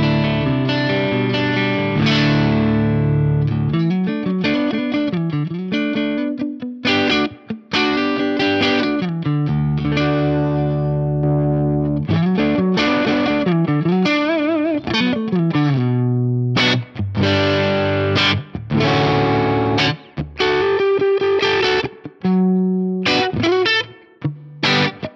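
A loud, heavily distorted electric guitar through an Axe-Fx III amp modeler plays chords and riffs with sustained notes, close and continuous, with brief gaps between phrases.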